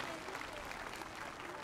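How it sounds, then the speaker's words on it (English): An audience claps for a concert band at a school Halloween concert, giving a steady, dense wash of applause throughout, with some crowd voices mixed in. "How about one more round of applause for our awesome concert band?"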